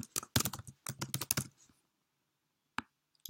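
Typing on a computer keyboard in a quick burst of close, crisp key clacks, then a pause and one or two isolated key presses.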